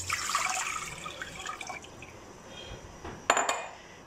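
Bottled water poured from a 600 ml bottle into a pot on a stove, a splashing, gurgling stream with light metallic clinks, easing off and then a brief knock near the end.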